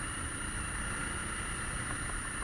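A SWM 650 R motorcycle engine drones steadily while riding, a constant close mid-pitched hum with wind-like roar and no change in pace or level.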